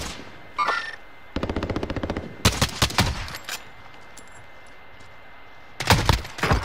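Gunfire in the Warzone video game: a rapid automatic burst, then heavy cracking shots, a long gap and a final loud volley, close and sharp, with no voices over it.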